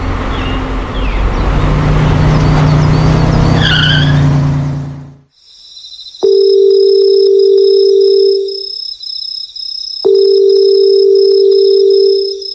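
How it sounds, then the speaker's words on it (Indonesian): A telephone call goes unanswered: after several seconds of loud rushing noise, two long, steady ringback tones sound with a pause between them. "Si Robi, males banget tuh orang ngangkat telepon doang juga bukan suruh ngangkat galon"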